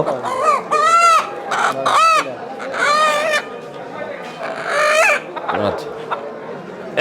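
Native roosters and hens at a busy village market in Bangladesh, loud nearby crowing and clucking repeating every second or two, with people talking and market bustle underneath.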